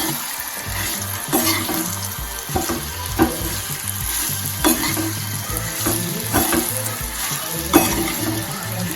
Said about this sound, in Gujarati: હવે તેને એક મિનિટ સુધી સાંતળવા દેવાના છે